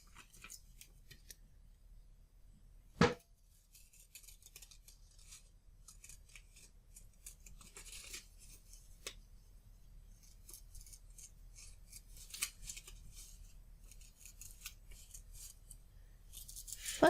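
Sewing scissors snip while cutting paper at a craft table, one sharp loud cut early on followed by quieter scattered rasping snips and rustles.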